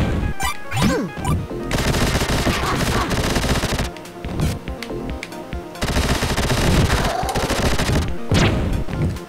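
Rapid gunfire from the Vectorman video game, continuous and dense with crashing impacts, layered over game music and effects throughout.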